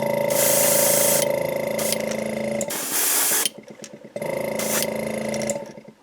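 Spray paint hisses loudly in long close bursts as a second coat goes on, broken by short pauses and a brief rattle between sprays.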